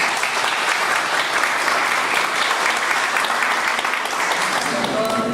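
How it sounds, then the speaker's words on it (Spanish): Audience applause after a talk at an academic event, sustained dense clapping from a full room, loud and even from start to finish. "para quien pido nuevamente un fuerte aplauso"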